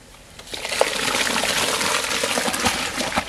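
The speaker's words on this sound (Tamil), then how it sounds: "அதிகமான சூடு தம்பி, தண்ணி கொதிக்குது." Water for sambar rice heats in a pot at high heat, a steady bubbling rush that rises early on and holds close and even, with no talk over it.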